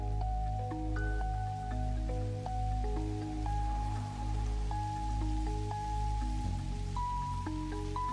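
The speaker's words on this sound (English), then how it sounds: "Why is it always raining?" Rain falls steadily in the factory-building game Satisfactory, a soft continuous patter heard alone beneath a layered tonal synth music bed that plays throughout.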